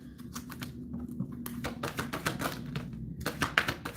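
Rapid bursts of crisp, papery clicking, like cards riffled together in quick flutters, close by and moderately loud, with no talking.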